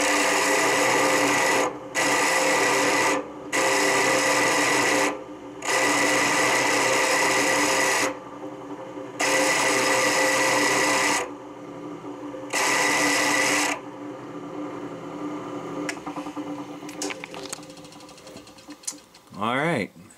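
A power drill with a 3/8 bit whines in several bursts of a few seconds each while making a truss rod, separated by short pauses, followed by quieter handling noises and a brief voice at the end.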